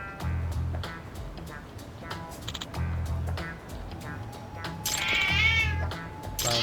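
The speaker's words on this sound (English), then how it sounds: "Loud hiss. Meow." A stray cat in the video game Lost Judgment gives several loud, drawn-out meows in repeated bursts, with a harsher hissing cry toward the end and some game sounds around it.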